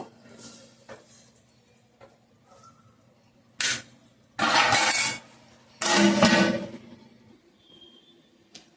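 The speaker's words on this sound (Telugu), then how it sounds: "టమాటాలు వేసి ఇప్పుడు వాటర్ పోస్తున్నాను ఇందులో ఇప్పుడైతే ఈ విధంగా తిప్పుకొని కాసేపు మూత అయితే వేసి ఉడికిద్దాం" Water is poured into a pot of okra and tomato curry, stirred, and covered with a lid. A few light clinks come first, then two loud rushing, scraping bursts of about a second each, with quiet stretches in between.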